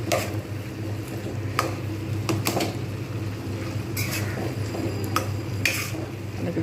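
Banana flower curry with ghee is stirred in a pan, giving scattered utensil clinks and scrapes against the pan over a low background hum and a faint sizzle.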